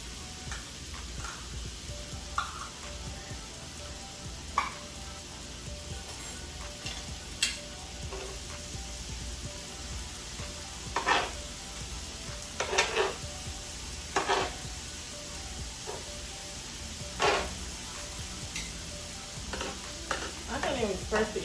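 A jalapeño fries on a hibachi-style griddle at home with a steady, close sizzle, broken by scattered clicks and scrapes of stirring and utensils. No one speaks.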